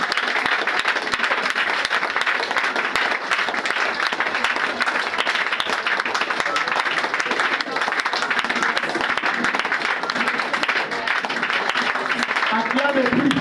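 Congregation at a French-language prayer service breaks into sustained, dense applause that fills the whole stretch loudly and evenly, with voices calling out underneath.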